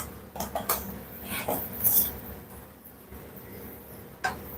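Metal spoon scraping and clinking against a pan while pumpkin puree cooks with butter, a few irregular close taps and scrapes over a quiet background.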